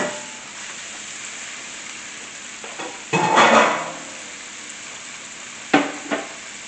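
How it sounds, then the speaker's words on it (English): Shrimp cooking in a pan give a soft steady sizzle, with a brief louder burst of frying and clatter midway and a couple of sharp utensil knocks near the end. "the shrimp are cooking"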